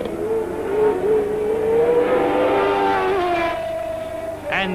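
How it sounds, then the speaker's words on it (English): 1980 Formula 1 cars racing down the long Mistral straight at the French Grand Prix, a sustained high engine whine rising and shifting in pitch as the cars pass, heard fairly close and continuous. "Down the longest Grand Prix straight of them all, the Mistral, Pironi got closer and closer to Laffite."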